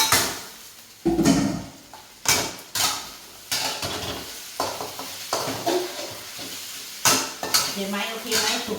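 Shrimp fry in a hot pan, with a soft sizzle under a rhythm of sharp spatula scrapes and metallic clanks against the pan, heard up close. A voice talks faintly now and then.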